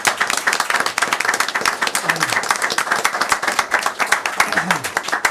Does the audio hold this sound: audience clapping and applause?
yes